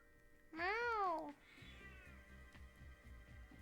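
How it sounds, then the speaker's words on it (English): A cat meows once in a video game, a clear, loud, rising-and-falling call of under a second, followed by quieter game background sounds. "Meow."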